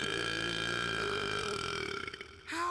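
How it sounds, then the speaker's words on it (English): A cartoon character lets out one long, loud, rumbling burp that holds steady before trailing off, followed by a brief rising vocal sound at the end. "just practicing for the next burping tournament."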